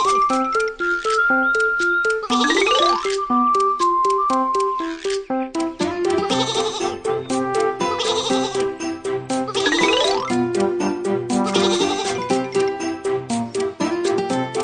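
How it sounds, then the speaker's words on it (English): Cartoon sheep on a train track bleat repeatedly over bright animated music, their wavering cries rising and falling in a playful, busy mix. "Some sheep are on the train track."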